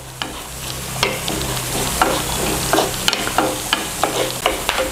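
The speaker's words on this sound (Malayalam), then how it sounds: "ആ തേങ്ങ നമുക്ക് ഈ വെളിച്ചെണ്ണയിലിട്ടിട്ട് നന്നായിട്ട് അങ്ങ് വറുത്തെടുക്കാം." Coconut pieces fry in coconut oil under a loud continuous sizzle, with repeated scraping clicks of stirring throughout.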